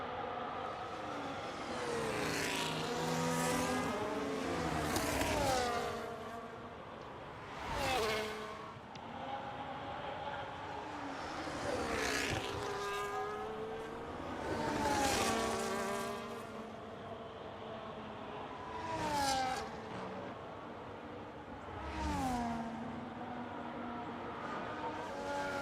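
Formula 1 car in a racing video game screaming through a flying lap at the Australian Grand Prix, engine pitch rising and falling repeatedly through gear changes, loud and close with no talk.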